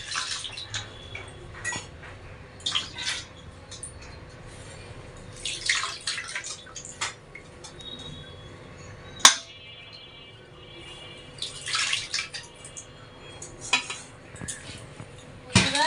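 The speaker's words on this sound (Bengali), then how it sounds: "ডিমগুলো তো নোংরা থাকে, আলুগুলো কেটে দেওয়া হয়েছে, তো একটু ভালো করে ধুয়ে দিই।" Eggs and cut potatoes being washed in water in a home kitchen, with soft splashing, dripping and the occasional clink of dishes and utensils, fairly close and steady.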